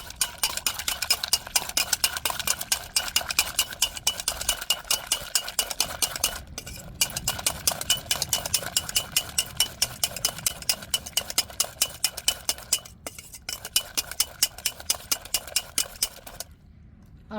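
Eggs beaten with chopped chilli and onion in a bowl, a fast, continuous run of rhythmic utensil clicks and scrapes against the bowl, close and steady, with a few brief pauses.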